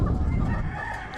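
Chickens and a rooster in a coop with a tarp cover, giving a dense, continuous mix of clucking and crowing that stays fairly loud and steady throughout, with no speech.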